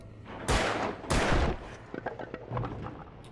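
Two loud, close gunshots from a handgun in the Alan Wake game, each ringing out with a decaying tail, followed by softer scattered clatter and a fainter later hit.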